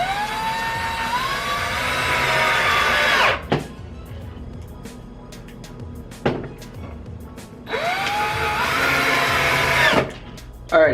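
Power drill driving half-inch number 4 screws into a wooden case, two loud sustained runs of the motor winding up, each ending in a sharp stop, with brief clicks between.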